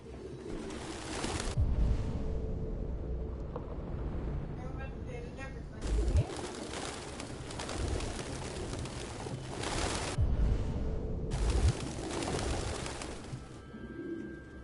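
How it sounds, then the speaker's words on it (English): Pigeons coo in the video game Detroit: Become Human, soft repeated calls woven through a steady ambient game soundscape with occasional louder swells. "Birds."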